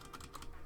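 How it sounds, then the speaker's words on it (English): Quick clicks of a computer keyboard being typed on, faint and brief, a few keystrokes with no talk, picked up during a game stream. "Is it always this loud when I type?"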